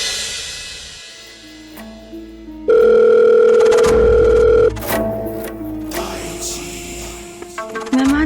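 A telephone rings unanswered, with electronic ringing tones that include a loud, sustained steady tone in the middle, set among quieter tonal beeps and background sound from an indoor scene.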